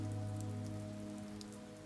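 Rain falls in a soft, steady patter on a surface, faint and even throughout, with a low tonal hum beneath.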